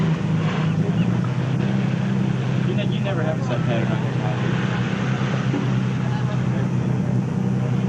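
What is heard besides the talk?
whale watching boat engine idling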